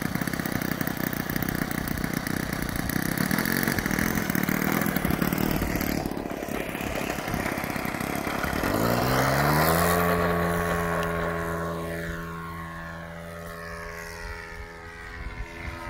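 A T-34 Mentor model airplane from The World Models, fitted with an ASP .52 four-stroke engine, drones steadily overhead, then swoops past in a loud flyby whose pitch drops sharply as it pulls away.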